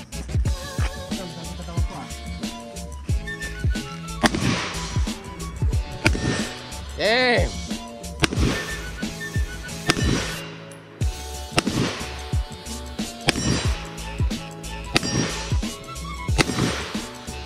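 Outdoor firing of a custom AR-15 rifle, with several sharp gunshots spread irregularly across the span, mixed with people talking and laughing nearby.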